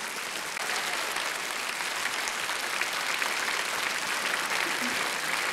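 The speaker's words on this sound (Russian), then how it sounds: "Спасибо большое, что вы так хлопаете." An audience at a 2004 poetry and song recital claps steadily in a dense, even wave of applause that fills the hall without a break.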